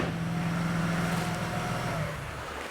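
Ford XR6 Falcon engine running with steady throttle, a sustained mid-loud drone that holds evenly before easing off slightly toward the end, with no voices over it.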